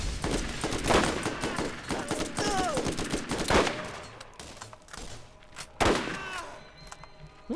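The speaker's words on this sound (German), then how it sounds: "Drei Schuss, drei Tote." Rapid gunfire from the Borderlands video game, with bursts of several close, loud shots and fusillades spread across the span, separated by brief lulls.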